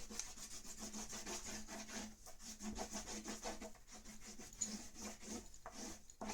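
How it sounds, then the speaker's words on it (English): A crayon colors in a blue sky on paper with steady, quick back-and-forth rubbing strokes, close and soft, continuing without pause and with no talking. "if you have any light blue crayon or regular, just a regular blue, let's color the sky in"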